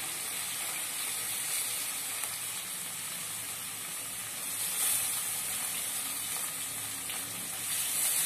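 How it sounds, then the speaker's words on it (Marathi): Water spilled into hot oil in an Indian kadhai while soaked moong dal and radish cook, giving a continuous close sizzle and crackle with slight swells in intensity. "माझ्याकडनं कढईमध्ये थोडं पाणी पडलंय, त्यामुळे हा तडतड तडतड आवाज येतोय"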